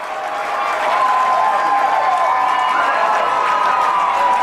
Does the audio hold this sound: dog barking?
no